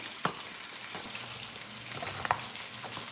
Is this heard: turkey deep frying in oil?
yes